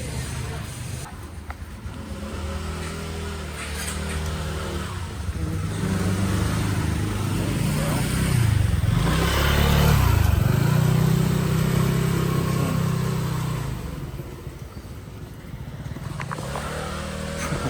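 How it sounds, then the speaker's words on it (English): Motorbikes ride through a narrow Bangkok slum, engines droning nearby and swelling as one passes close, amid steady background bustle and occasional talking. "And then you have motorbikes driving through there too."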